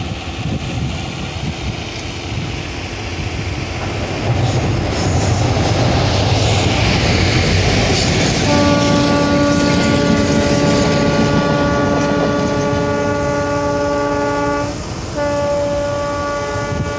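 A train passes on a speed trial run near a railway bridge on the Asanpur Kupha to Nirmali station line. A loud, sustained rolling rumble builds, and a long horn blast sounds over it with a brief break.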